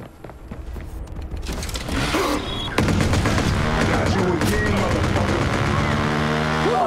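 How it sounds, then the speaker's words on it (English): A shootout in the Watch Dogs video game: rapid overlapping bursts of automatic gunfire crackle densely, building after a short lull into a loud, sustained barrage with layered shots and some background game noise. "Big shootout going on"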